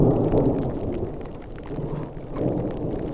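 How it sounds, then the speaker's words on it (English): Rolling thunder from a mountain storm in Norway, a deep, loud, continuous rumble that swells at the start, eases and builds again toward the end, with rain-like hiss and no talk. "That fucking thunder and lightning is scary as fuck."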